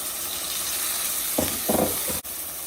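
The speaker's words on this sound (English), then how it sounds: "So now we're going to go ahead and add our 1 cup of wine." White wine poured into a hot pan of cooking onions for French onion soup sets off a steady loud sizzle, with a couple of short bubbling surges partway through.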